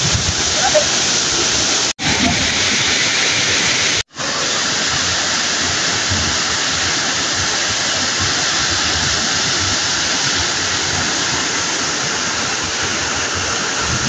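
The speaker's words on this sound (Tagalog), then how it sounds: "Ito yung Lobcon Falls." Lubcon Falls in Barangay Mabahin, Cortes, Surigao del Sur, roars as a steady, loud, full-band rush of falling water, continuous and close, with two brief dropouts near the start and no talking over it.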